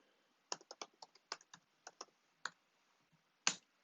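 A password is typed on a computer keyboard as a quick irregular run of a dozen or so crisp, close key clicks in a quiet room, ending with one louder keystroke after a short pause.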